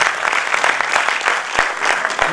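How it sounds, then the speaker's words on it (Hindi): Audience applause at an all-India mushaira poetry recital, a steady dense patter of many hands clapping close and loud, with a few sharper individual claps standing out. "आप तालियां बजाएं"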